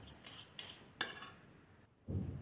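A spoon clinks against a pan as coffee cream cooks and is stirred, with a few light metallic taps, one sharper clink, then a soft, faint scrape of stirring at close range.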